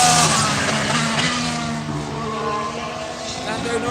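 Lando Norris's McLaren Formula 1 car passing during Barcelona testing, a loud high-pitched engine whine that shifts in pitch as it goes by, with a voice talking over it.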